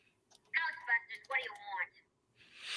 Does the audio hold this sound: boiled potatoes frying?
no